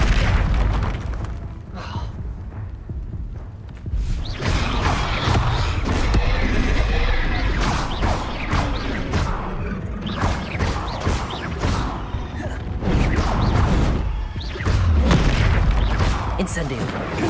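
Fiery spell explosions from a Hogwarts Legacy battle burst in repeated loud booms and crashes amid combat clatter, with a voice shouting over the action.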